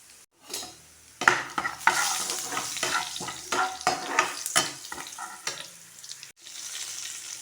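Onion and garlic frying in a pan for a Pahadi lingdu fern sabzi, loud close sizzling with repeated stirring strokes and scrapes, short pauses in between, no voices.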